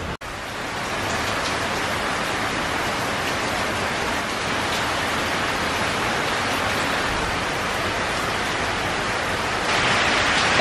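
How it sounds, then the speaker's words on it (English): Heavy rain pours down steadily outside a house in Jamaica, a dense, loud hiss of drops on surfaces that holds constant throughout with no voices. "it's raining very, very hard"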